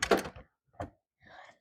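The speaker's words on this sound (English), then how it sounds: "You're going to place your door inside the tracks here" A glass cat door is set into sliding window tracks: a few close, dull knocks and a sliding scrape, short and moderately quiet, with brief silences between them.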